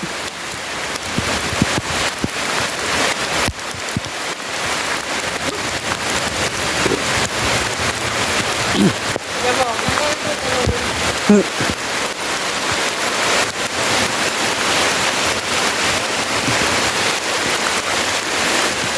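The Sap Sa Kaeo waterfall at Ban Khao Phluang pours in a constant broadband rush that holds steady throughout, with scattered faint bumps and shuffles of movement close by.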